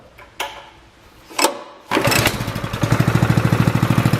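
A couple of sharp pull-cord clanks, then a small engine sputters to life and settles into a loud, rapid, pulsing rev, starting once its kill switch is turned on.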